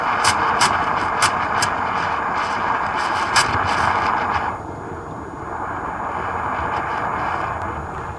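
A Mr. Coffee espresso machine steam wand frothing 2% milk, a loud continuous hissing roar with sputtering bursts that settles into a lower, steadier hiss partway through, heard alone.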